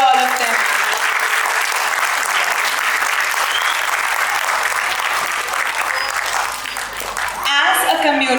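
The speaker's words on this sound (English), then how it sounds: "a huge round of applause for all of them" Sustained audience applause fills a school auditorium after a Grade 8 drama production of Pride & Prejudice, a loud, dense wash of clapping with crowd noise that carries on for several seconds before voices break in at the end.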